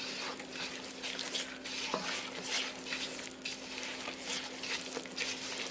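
Flour being mixed by hand into a traditional Christmas pudding mixture in a bowl, a soft continuous stirring rustle with light scraping, fairly quiet, over a faint steady hum.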